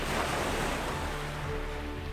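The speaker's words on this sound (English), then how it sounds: "the waters rushed back together with a mighty roar" Red Sea waters rushing back together with a mighty roar, a loud, dense, continuous surge of crashing water that fills the whole moment without letting up.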